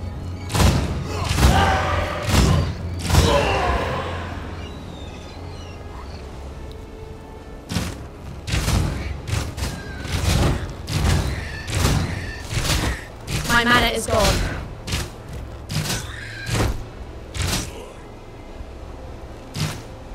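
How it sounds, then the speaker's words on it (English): Repeated sharp impact bursts from a three-way shot skill fired in Path of Exile, sounding as a rapid run of punchy thuds and cracks over a low game soundtrack, some in quick clusters and others spaced apart. "Pretty cool, a three-way shot."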